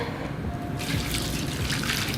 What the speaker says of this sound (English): add a nice splash of pasta water just to keep things a little loose in there